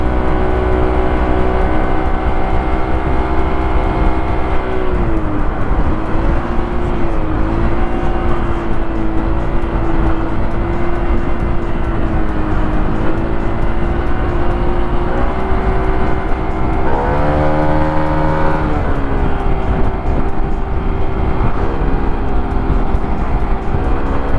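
Honda LEAD125 scooter with a remapped exhaust accelerating hard to overtake, a loud steady engine drone that rises and shifts in pitch as it pulls, continuous and close throughout.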